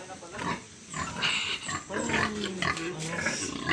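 A mother pig grunts and snorts steadily at close range, with a continuous stream of rough, throaty calls and some rustling around her.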